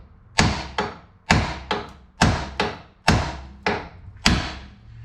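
Hammer blows striking an aluminum front suspension part on a Porsche Cayman 987.1 to break a taper loose: seven sharp, loud metallic knocks in an uneven rhythm, each ringing briefly, with no talk.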